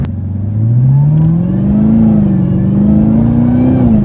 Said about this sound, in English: The engine roars and the supercharger just whines, getting you 650 horsepower and 650 pound-feet of torque.